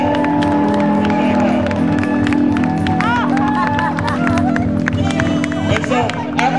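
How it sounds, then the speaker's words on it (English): An audience of volunteers who came to gut flood-damaged houses after Hurricane Katrina claps and cheers in a dense, continuous round of applause with whoops, loud and close throughout. "Let's everybody give him a round of applause."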